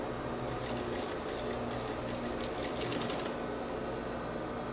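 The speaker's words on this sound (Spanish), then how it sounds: "Le hago una costurita. Puede ser a medio centímetro." A sewing machine stitches a seam on a shirt collar with interfacing, a fast, even mechanical chatter over a steady motor hum that runs close and then eases off near the end.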